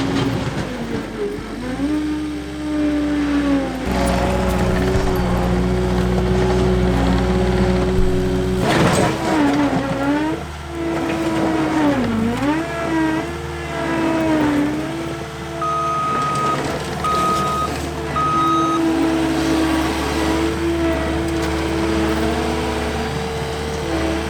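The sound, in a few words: skid steer loader engine working soil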